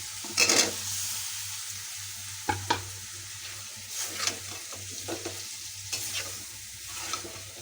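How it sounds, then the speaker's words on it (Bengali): Green plantain pieces sauté with spices in an oily pan, giving a steady low sizzle broken by several sharp spoon-stirring scrapes and clatters, close and alone with no talk. "মশলা দিয়ে সুন্দর করে আমি কষে নিই"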